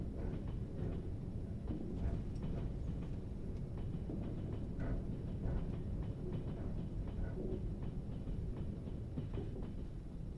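Train running in the Trans-Siberian Railroad Sim video game, a steady low rumble and rolling hum with faint rhythmic clicks of the wheels, continuous and even throughout, with no one talking.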